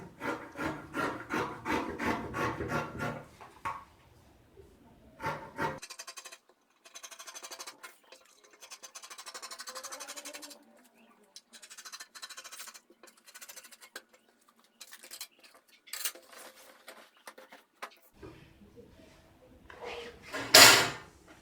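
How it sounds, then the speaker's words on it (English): Scissors cut through gown fabric along a marked line, making close, intermittent snipping and sliding rustles with quiet gaps between them and a louder clatter near the end. "So I'm going to cut it out now before I cut out the neck"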